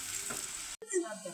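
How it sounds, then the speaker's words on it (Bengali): Onions fry in oil in a pan, a brief soft sizzle broken by a short cut, then a scraping stir and renewed sizzling. "পেঁয়াজগুলো এখন আমরা হালকা একটু নেড়ে চেড়ে নিয়ে অল্প একটু লাল লাল করে ভেজে নিব।"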